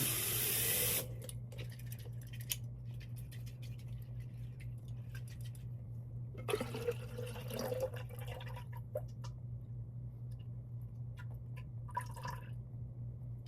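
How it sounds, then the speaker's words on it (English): Water splashes and trickles as it is poured, with a steady low hum underneath and a burst of louder pouring midway. "pour the water down"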